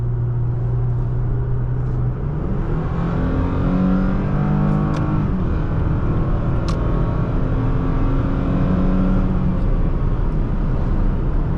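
A 2023 Toyota Tacoma TRD Off Road accelerates from inside the cabin, a loud continuous engine drone climbing in pitch through gear changes over heavy road rumble.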